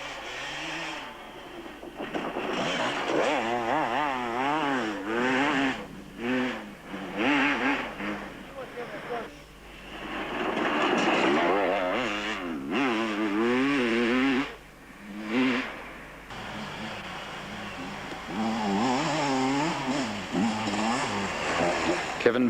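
A four-stroke thumper motorcycle ridden at the 1992 International Six Day Enduro at Cessnock, Australia, revving and wavering in pitch as it passes through rough going, loud throughout beneath a commentator's running narration.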